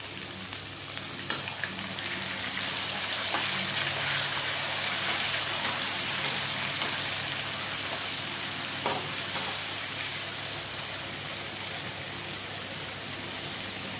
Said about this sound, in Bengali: এটা ততক্ষণ পর্যন্ত কষবো, একদম ব্রাউন হয়ে যাবে